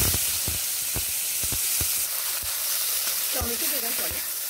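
Chopped tomato sizzles and crackles in a hot pan of oil with cumin for an eggplant dish, with scattered stirring taps of a spoon against the pan over a steady frying hiss.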